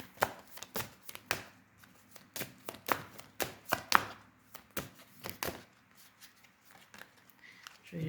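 An oracle deck is cut and shuffled by hand, giving a close series of soft sharp card slaps and taps in an uneven rhythm, with no talk.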